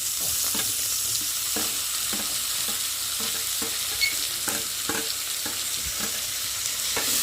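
Chopped tomatoes stir-fried in a pan give a steady loud sizzle, with repeated scraping strokes of a spoon or spatula cutting through at a regular rhythm and no voices.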